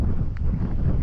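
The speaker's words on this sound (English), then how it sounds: "It is windy today and the wind's blowing like against me." Gusty wind on a windy day blows steadily across the microphone outdoors, a brief close low rumble with no other clear sounds.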